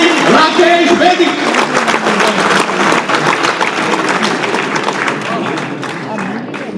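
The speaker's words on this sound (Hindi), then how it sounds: "जोरदार तालियां" Loud, sustained applause from an audience at a Hindi kavi sammelan, a Republic Day evening poetry event, with dense clapping filling the hall and slowly easing off toward the end.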